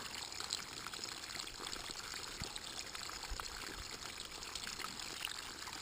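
Water stirred and churned in a bucket by a hose with holes in it, part of a homemade gold fluid bed; a continuous bubbling, trickling wash of moving water with small splashes, steady and close.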